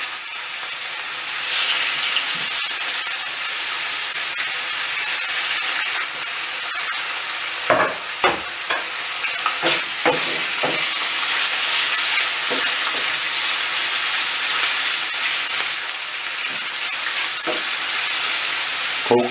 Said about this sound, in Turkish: Tavuklarımızı güzelce kızartacağız.